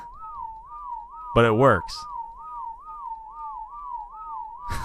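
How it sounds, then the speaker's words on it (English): Repeated two-note player whistle from ARK: Survival Evolved, used to command tamed creatures, looping steadily and clearly in the foreground; a burst of speech interrupts it partway through. "you just stand here and whistle like an idiot, and they don't move"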